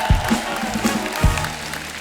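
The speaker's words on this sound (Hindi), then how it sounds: "एक बार हमारे मेहमानों के लिए जोरदार ताली हो जाए।" A brief burst of studio audience clapping for guests on a comedy talk show, mixed with low swooping musical tones and booms, busy and fairly loud for two seconds.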